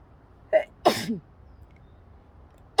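A sneeze bursts out indoors during a relaxed chat about grilled eggs, with a short throat sound before it and another sharp onset right at the end; the sneeze is fairly close and stands alone without talk over it.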